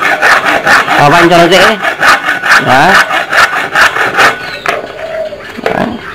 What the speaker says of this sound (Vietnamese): Sau khi đo xong rồi thì mình cưa đi, cưa cái đoạn này đi